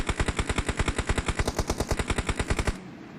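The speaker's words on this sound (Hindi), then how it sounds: "दीपू दे फायर ओपन चा पूरा" Gunfire from a battle royale video game rattles in a fast, steady burst of rapid automatic shots that stays loud and close for nearly three seconds before cutting off into quiet background.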